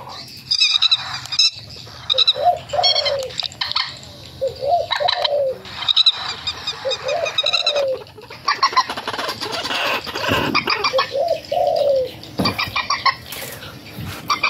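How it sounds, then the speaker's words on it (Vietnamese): Caged birds including doves and songbirds calling repeatedly, with rhythmic cooing and bright chirps overlapping close by, fairly loud and steady throughout. "Tiếng chim ha, đặc biệt tiếng chim anh em là bán nhiều lắm nha anh em"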